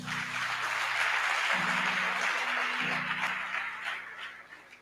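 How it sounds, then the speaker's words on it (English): A young male audience applauds at a boys' youth summit held by a foundation, a steady wash of clapping that stays fairly full throughout before thinning slightly near the end, with a low droning tone underneath. "Please clap hands for yourselves."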